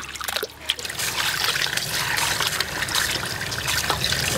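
Pork ribs being rinsed under running water in a kitchen, a steady close trickle and splash of water flowing continuously.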